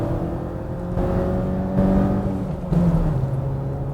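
A Nissan Qashqai engine revs steadily and climbs in pitch, a smooth continuous drone heard from inside the car with no talk over it.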